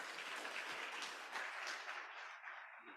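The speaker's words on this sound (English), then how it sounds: "Let's give him a round of applause." Conference audience applauds a speaker at a labour law and skills event, a dense, even wash of clapping that tapers off near the end, heard alone without talk.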